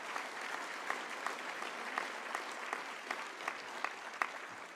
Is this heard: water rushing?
no